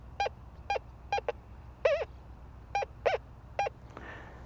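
Signal tones from a TX850 metal detector sweeping ground with coins and scrap, a series of short, regularly spaced beeps, some warbling or doubled, fairly close and clear over a low background rumble.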